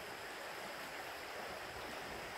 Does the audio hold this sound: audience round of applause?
no